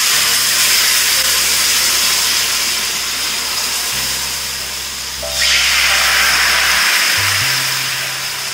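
Dosa batter poured onto a hot griddle stone gives a steady, close hiss and sizzle that flares up sharply partway through and then settles, with low kitchen hum underneath and no talk.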